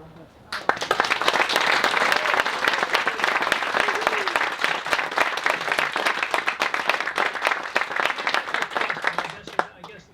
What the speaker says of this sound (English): I guess Marcel was applauding here